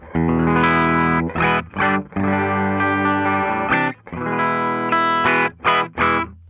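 A 1981 Ibanez AS100 hollow-body electric guitar plays chords and notes, full and ringing, with short pauses between phrases; the tone is thick and slightly processed rather than fully clean.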